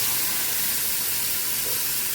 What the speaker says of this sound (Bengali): বাটা মশলাটা দিয়ে দিচ্ছি।